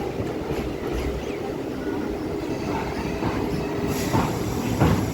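A Siliguri–Bamanhat DEMU train rounds a curve on the way to Sevoke, hill country ahead, producing a continuous rumbling roll with rising metallic wheel squeals near the end.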